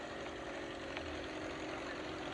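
Yamaha R6 motorcycle engine running at a steady drone, a continuous, even rumble with no clear rise or fall in revs.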